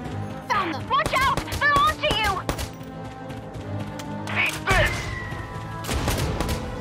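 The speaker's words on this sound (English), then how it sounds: "firing at me!" Gunfire in the Valkyria Chronicles 4 tactical game: bursts of sharp shots and thudding impacts come in clusters, under and between excited game voices speaking.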